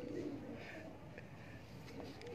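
Pigeons on a rooftop coo softly and low, a faint, muffled murmur under broadband outdoor noise throughout.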